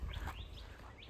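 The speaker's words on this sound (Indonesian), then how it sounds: "Di jalan di sini ditemenin sama suara-suara burung" Faint parrot and other wild bird chirps and short whistled calls rise over a low rumbling background on a road in New South Wales, Australia, scattered through the moment without any talking.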